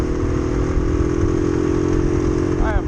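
Motorcycle engine held at wide open throttle, a loud steady drone with strong low harmonics right up close, a brief rising whine near the end.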